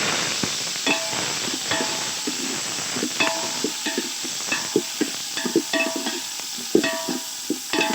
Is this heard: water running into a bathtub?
no